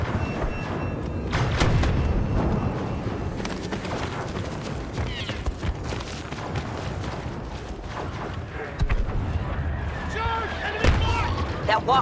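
Blaster and artillery fire crackle in the Star Wars Battlefront 2 video game on the Crait map, with repeated shots and thuds mixed with game voices talking throughout.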